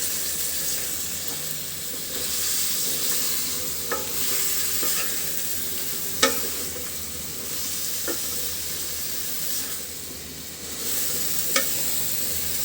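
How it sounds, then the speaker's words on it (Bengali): Potato pieces and Malabar spinach stalks sautéing in a pan with spices for a fish curry, a continuous close sizzle broken by occasional sharp spatula scrapes and clinks, with no voices. "যেহেতু আলু আর ডাঁটা একটু শক্ত, সেই কারণে এই দুইটা আগে কষিয়ে নেব"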